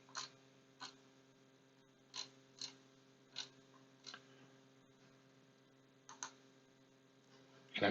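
Computer mouse clicking, about a dozen faint, sharp single clicks spaced irregularly over a low steady electrical hum, with no talk.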